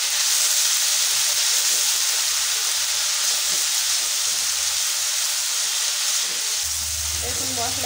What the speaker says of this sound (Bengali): আর কিছুক্ষণ মশলাটা কষিয়ে নেব।